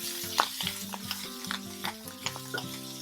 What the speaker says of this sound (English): I'm going to add the kale stems first, because I want to make sure that it gets cooked down.